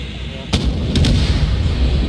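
Several loud booming artillery shots fire in quick succession in an Arma PvP battle on the Takistan map, followed by a rumbling low roar.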